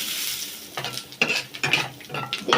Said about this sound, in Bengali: তেল গরম হয়ে গেছে, এখন তেলে দিয়ে দিব তেজপাতা। এবার দিয়ে দিচ্ছি জিরে।